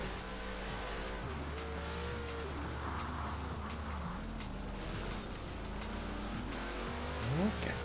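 A Ford Crown Victoria police car accelerates hard in Forza Horizon 4, its engine droning steadily and close throughout, with a brief tire squeal near the end and a voice talking over it.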